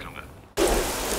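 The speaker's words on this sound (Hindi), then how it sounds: "बाहर बारिश भी बहुत हो रही है" Heavy rain outside starts abruptly as a loud, steady broadband hiss, like a downpour on surfaces, following a quieter stretch of room tone.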